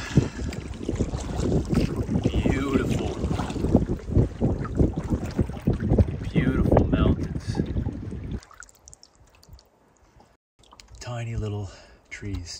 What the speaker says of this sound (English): I think I'm going to be facing a headwind.